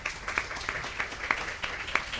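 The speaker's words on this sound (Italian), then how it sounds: "gli farei anche un grande applauso" Applause from a small audience after a talk on editorial illustration, sparse, distinct hand claps in an uneven rhythm at close range.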